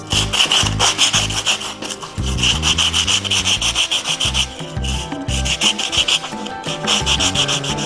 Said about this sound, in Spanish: vamos a lijarlo.